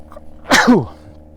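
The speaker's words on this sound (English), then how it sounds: "I had a sneeze that I didn't realise was coming." One loud, sharp sneeze bursts out close by, a quick inhale followed by an explosive blast, then quiet.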